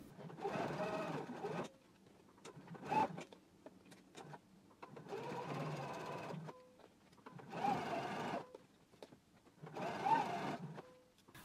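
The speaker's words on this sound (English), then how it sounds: "we can go to the sewing machine and stitch in the ditch" Sewing machine stitching in the ditch on a pants waistband, running in several short bursts of rapid mechanical whirring separated by brief pauses and small clicks, fairly quiet and close.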